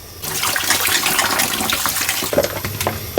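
Tap water runs steadily and close by in a home kitchen as ingredients are rinsed, a continuous splashing stream with a few clatters near the end.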